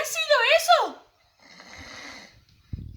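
A voice imitates snoring in a children's story, with a swooping nasal snort followed by a softer, breathy rasping snore and a short thump at the end.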